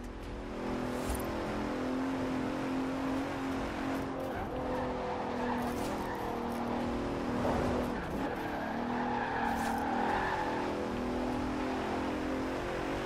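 A Bentley Continental races in Forza Horizon 4, its engine droning steadily with tire squeal and shifting revs, loud and continuous throughout.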